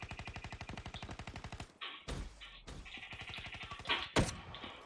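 Gorgon gun firing in the video game Call of Duty Black Ops 3, a rapid run of regular punchy shots followed by louder, sparser blasts and bursts.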